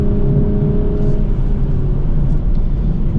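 2025 BMW Z4 M40i with six-speed manual gearbox droning on a race track, a steady loud engine hum and rumble heard from inside with a slight rising tone, no talk.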